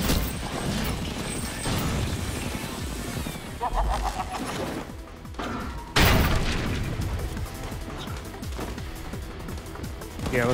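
Bomb blasts and combat mayhem in the action game Gungrave G.O.R.E, with dense booming impacts and crashing hits running continuously, a sharp heavy burst near the middle, and music and game effects layered throughout.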